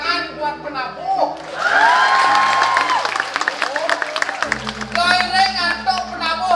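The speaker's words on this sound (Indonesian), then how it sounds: "Beri tepuk tangan buat penabuh." A crowd at a Balinese drama gong performance, PKB 2024, applauds the gamelan musicians. Dense clapping and some cheering swell for a few seconds under a loud announcer's voice, with music tones heard alongside.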